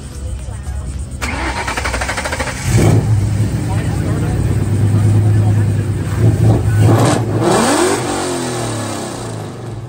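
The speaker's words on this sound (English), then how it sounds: "he's gonna start up the blue one here for everybody. These full 3-inch, long tube headers, no cats, X-Pipe, no mufflers." Blue Mustang with full 3-inch long tube headers, no cats, X-pipe and no mufflers cranks and fires up, then barks through loud revs and settles, with people talking nearby.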